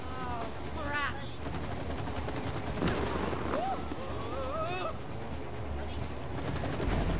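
Rapid gunfire bursts in the video game It Takes Two roll on steadily amid dense game sound, with voices faintly mixed in.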